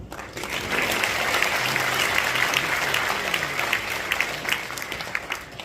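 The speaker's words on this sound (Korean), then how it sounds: "잠시 일어나서 인사해 주시면 모두가 박수로 환호해 주시기 바랍니다." Audience applause at an inauguration ceremony for a Korean Christian council president, greeting introduced guests; steady, dense clapping fills the room throughout, loud and continuous with no speech over it.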